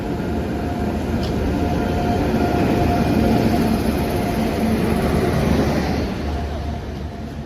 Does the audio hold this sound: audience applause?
no